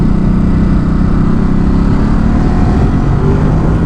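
A Ducati Supersport S motorcycle engine running in sports mode at lower revs, a loud steady close-up drone with faint rising tone as it pulls, under heavy ride noise.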